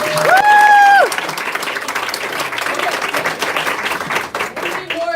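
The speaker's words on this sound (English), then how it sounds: "let's give a round of applause to these hosts." A rally crowd applauding volunteer hosts, with dense, loud, sustained clapping mixed with cheers and a raised voice over the top, holding steady for several seconds.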